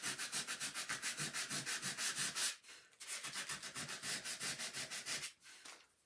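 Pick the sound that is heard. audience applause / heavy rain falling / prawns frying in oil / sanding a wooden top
sanding a wooden top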